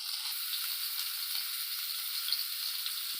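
Salted, turmeric-coated eggplant fries in a wok with a steady, even hiss of sizzling oil throughout, fairly close and without talk.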